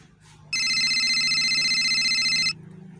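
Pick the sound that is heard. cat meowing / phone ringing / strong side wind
phone ringing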